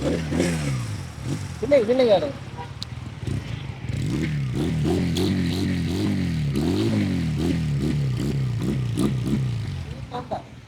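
A motorcycle engine revs repeatedly in short rising bursts, loud and close, with a steady idle rumble between revs and talking early on.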